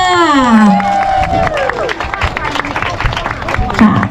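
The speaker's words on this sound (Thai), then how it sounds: "เขาเสียงปรบมือค่ะ" Applause from a crowd at a running event award ceremony in Ladsawai, Thailand, with dense clapping and cheering spread through the whole stretch. A loud amplified voice speaks over it at the start.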